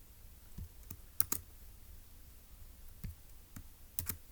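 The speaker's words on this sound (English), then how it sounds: "let's go ahead and type that up in our notes in section E" Fingers tap on a computer keyboard in a few sparse, separate clicks spread across a quiet stretch, some keystrokes landing in pairs.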